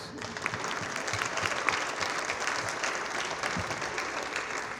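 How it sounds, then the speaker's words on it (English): A room claps for itself at a presidential awards dinner, dense steady applause with a crowd murmur beneath, holding an even level throughout. "Let's give a round of applause to ourselves"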